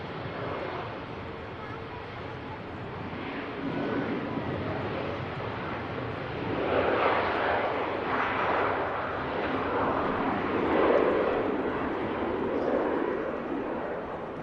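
An Eastern Airways airliner flying for KLM takes off from Manchester Airport, a broad jet roar that swells and rumbles at a distance, with wind buffeting the microphone.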